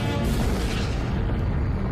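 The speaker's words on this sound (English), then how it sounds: "A massive but short-lived star exploded as a supernova" A supernova explosion sound effect, a deep, loud sustained boom with a rumbling low end that fills the whole moment without any pause.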